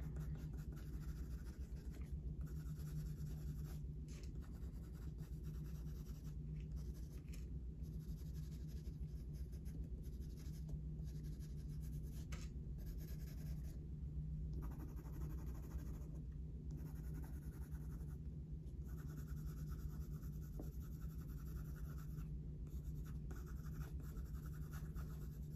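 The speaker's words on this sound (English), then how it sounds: "I'm also just going to briefly go in with the silver grey luminance pencil" Coloured pencil, a silver grey Luminance, strokes across drafting film to draw badger fur, a continuous soft scratching of short repeated strokes at close range with no talking.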